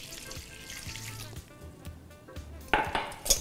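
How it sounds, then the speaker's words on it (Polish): Hot water is poured onto crushed chocolate in a kitchen, making a soft trickling splash with light clinks of a container, quiet at first and then a louder, brighter pour near the end. "do pokruszonej czekolady wlewamy gorącą wodę 150 ml"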